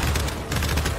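Dense, continuous gunfire in a Gears 5 firefight, a steady rapid rattle of shots over a low rumble, loud throughout the short burst with no voices.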